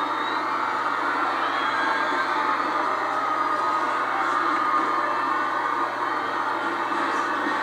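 A huge crowd cheers at the royal wedding in London, a dense, sustained roar of distant voices and whoops that stays steady and loud throughout with no single voice standing out.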